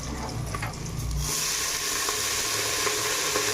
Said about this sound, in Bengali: বাঁধাকপিটা দিয়ে লাল করে একদম ভেজে নেবো